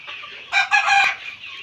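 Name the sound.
chickens clucking on a farm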